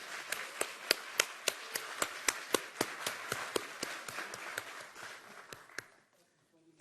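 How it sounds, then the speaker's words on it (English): Sparse, evenly paced clapping in a conference hall for a speaker at an industry briefing, a few hands striking in a steady rhythm that fades out near the end. "give a big round of applause for Ms."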